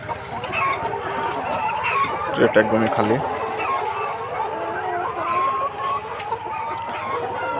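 A flock of about ninety layer hens and ten roosters kept together on a farm, clucking and cackling steadily with a burst of louder squawks midway, close by, while a person speaks briefly over them.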